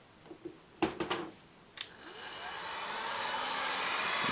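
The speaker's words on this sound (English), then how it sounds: "does it power a industrial hairdryer, also known as a heat gun?" A few clicks and bumps, then a heat gun powered by an AllPowers S2000 Pro portable power station whirs up and blows with a rising, steady rushing roar that grows louder to the end.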